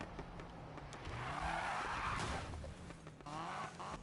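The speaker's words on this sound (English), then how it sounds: "you can hear the spooling" An engine spooling up with a rising whine and whoosh, swelling through the middle and dipping briefly before climbing again, loud and close with no talk.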